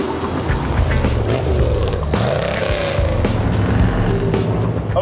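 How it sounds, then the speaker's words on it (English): A 1966 Corvette's engine drones steadily from inside the cabin while driving, a loud continuous rumble with road and wind noise layered on top. "Les, we're in a 1966 Corvette"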